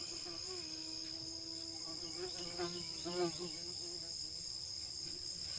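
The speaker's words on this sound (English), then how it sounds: "Yeah, I hear our bees. They're always around." A faint, steady buzz of bees hums outdoors beside a fig tree, with a brief murmur of a distant voice partway through.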